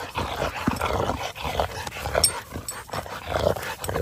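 Dogs growl and yip close by in bursts, with snarls, whimpers and scuffling over an outdoor background, fairly loud and uneven.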